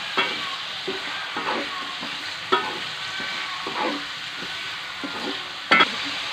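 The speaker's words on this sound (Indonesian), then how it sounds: "Aduk terus ya Bunda, sampai udangnya masak." Shrimp sizzle steadily in a hot pan while a utensil scrapes and stirs at an uneven rhythm, close and clear, with a louder clatter near the end.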